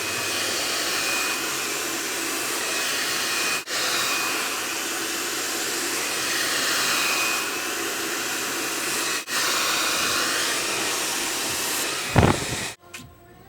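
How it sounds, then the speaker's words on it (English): A handheld blow dryer runs at a steady, loud roar while drying relaxed hair in downward strokes, with brief dips in airflow and a clatter near the end. "you want to blow dry in a downward motion because you don't want the cuticle to be raised"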